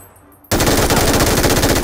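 An MG3 machine gun fires a sustained automatic burst in the PUBG video game, loud rapid-fire reports bursting in abruptly after a quiet moment and hammering on without pause.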